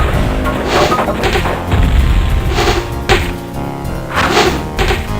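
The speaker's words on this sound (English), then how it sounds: "See just how quickly they actually destroy a building." A building crumbles under attack in Warcraft: Orcs and Humans, a string of loud thuds and crashing impacts over several seconds, set against a steady background of game music.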